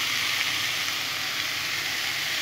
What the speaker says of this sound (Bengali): তখন আমি কুচিয়ে রাখা মূলো শাকটা আমি দিয়ে দেবো